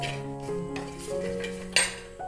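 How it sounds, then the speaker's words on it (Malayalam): Spiced powder being stirred in a pan during village-style Kerala cooking of an okra egg roast, with soft scraping and clinking of a utensil against the pan, close and continuous, one sharper clink near the end. "എന്നിട്ട് ഇനി നമുക്കൊന്ന് ഇളക്കി കൊടുക്കാം."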